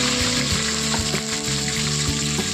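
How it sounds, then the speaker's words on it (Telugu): Onions and green chilies frying in oil with biryani spices, a loud continuous close sizzle with a steady hum beneath and faint stirring knocks. "ఇప్పుడు ఉల్లిపాయలు పచ్చిమిర్చి వేసేస్తున్నాము"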